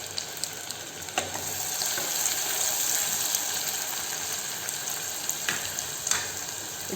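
Chopped onion frying with lentils for varagu millet upma, a constant bright sizzle with a few spatula taps and stirring scrapes, close and moderately loud, no talking.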